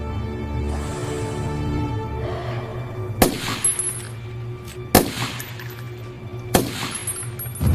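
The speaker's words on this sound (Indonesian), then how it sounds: "Ia juga dengan cepat menembak musuh yang mencoba membahayakan rekannya." Three sharp, loud sniper gunshots from the film Rogue Warfare ring out at roughly even intervals over a tense, sustained musical score, each shot followed by a brief metallic ring.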